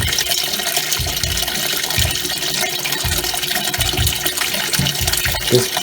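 Kenmore laundry center washing machine filling with cold water, a continuous rushing flow with low mechanical thumps and knocks underneath, heard up close.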